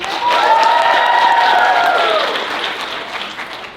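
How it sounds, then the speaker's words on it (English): A crowd applauds and cheers for the presenter Brad at a Penn State sorority seminar. Loud, dense clapping fills the room, and a high whistle or whoop rises over it before the noise eases off toward the end. "let's have a round of applause for Brad"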